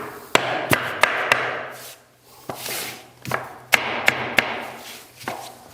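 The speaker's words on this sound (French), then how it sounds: "je peux m'aider d'une cale plastique et d'un maillet pour avoir un emboîtement parfait." A mallet knocks on a plastic block to tap floating engineered parquet boards together, sharp wooden taps coming in short quick clusters of two to four with brief pauses between, close and crisp.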